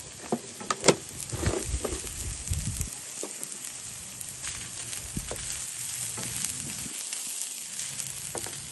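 Pieces of ash gourd sizzle in hot oil in a pan during outdoor cooking of kappa biriyani in a public park in Melbourne, a steady crackling fry with a few sharp clinks early on and no talking.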